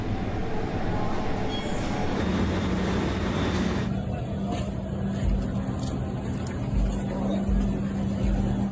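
A New York City F train rumbles through West 4th Street station, a loud continuous roar of rail cars with steady low hum and grinding, a high squeal entering midway.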